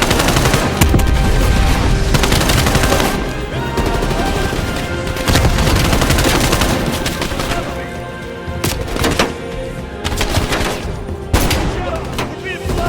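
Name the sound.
turret gunfire in video game Call of Duty: Black Ops Cold War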